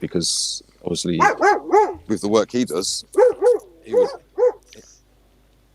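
Dogs barking at foxes at night, a run of sharp, close barks and yips, some in quick bursts, mixed with someone talking.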